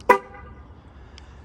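A parked car's alarm being set gives one short, loud beep, followed by a faint second chirp about a second later on a quiet street at night.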